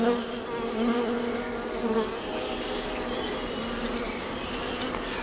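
Honeybees in a healthy hive hum steadily during a colony inspection, a dense close buzz with individual bees droning past, continuous throughout and without talking.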